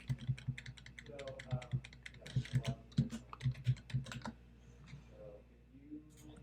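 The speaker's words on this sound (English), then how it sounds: "We're going to put in a card number." A card number is keyed in on a computer keyboard at close range, a quick run of crisp clicks in short bursts with brief pauses between groups.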